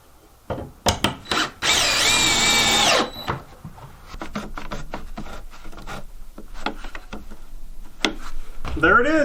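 A power drill drives screws through wood boards into wall studs during a home renovation. Short, close bursts of whining motor come first, then one longer run, with scattered knocks and handling noises between.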